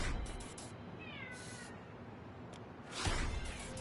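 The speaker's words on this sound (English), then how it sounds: "Oh, there's my cat in the background." A cat meows in the background of a quiet room during a PS5 Skate game stream, a few short rising calls around the one-second mark, faint and alone with no talk.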